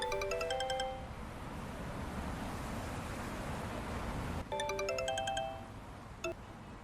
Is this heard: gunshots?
no